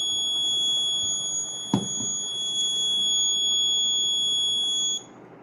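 A vehicle alcohol sensor alarm buzzer sounds a steady high-pitched tone continuously for about five seconds, then cuts off, with a single soft knock partway through.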